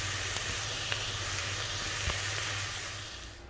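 White onions frying in a pot, a soft continuous sizzle and hiss with faint scattered crackles, easing off toward the end.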